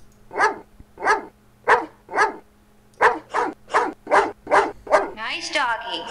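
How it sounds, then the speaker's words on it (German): Dog barking in the horror adventure game Phantasmagoria: a steady series of about ten sharp, close barks at a regular pace, ending in a whimpering yelp. "Und der bellt weiter in eine andere Richtung."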